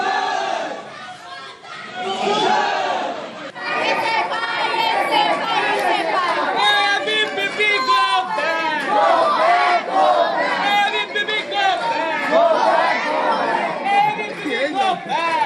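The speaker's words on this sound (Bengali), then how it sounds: "এসএফআই এবিভিপির স্লোগান আর পাল্টা স্লোগান" Crowd of students on a college campus chanting slogans and counter-slogans in a tense clash between rival student groups, a loud continuous roar of many voices shouting over one another for the whole stretch.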